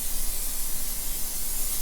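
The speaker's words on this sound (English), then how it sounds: "I'm going to use my cooking spray" Cooking spray hisses from a can into a cake pan in one continuous, close, steady burst.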